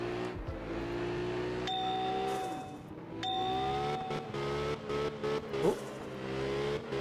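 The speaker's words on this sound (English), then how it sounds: "This car drives weird." A drifting car in the video game Absolute Drift revs steadily with a continuous engine drone, its pitch shifting as it slides, while bright chime-like dings ring out twice over the engine.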